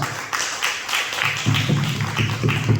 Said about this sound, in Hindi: उनके सम्मान के लिए मैं एक बार जबरदस्त ताली चाहता हूँ